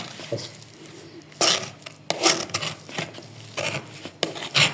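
Scraping and rubbing of a spoon against a bowl while mixing a potato kebab mixture with onion, in uneven bursts of rasping strokes separated by brief pauses, close and moderately loud.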